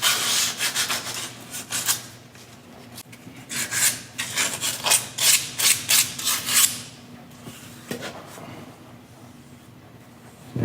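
Close scrubbing and rasping as light rust is cleaned off a flywheel mounting surface on a TKX 5-speed bellhousing setup, irregular quick strokes that speed up in the middle, then stop into quiet with a faint hum.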